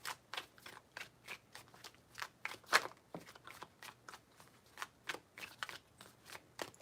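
Tarot cards being shuffled by hand, a series of soft, papery riffles and flicks close by, quiet and evenly spaced with one slightly louder snap midway.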